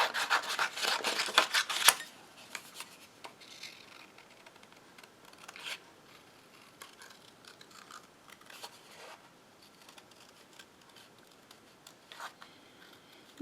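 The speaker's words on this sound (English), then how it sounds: "I'm just going to cut these out real quick." Scissors snip through paper pieces close by, a dense flurry of quick cuts at first, then sparse, quieter snips and rustling paper in a hushed room.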